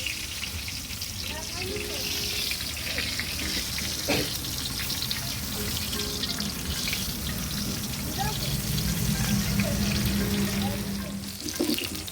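Chilli bhaji frying in hot oil at a roadside vada pav stall in Osargaon, a steady close crackling sizzle running throughout with faint water-like hiss and occasional clinks.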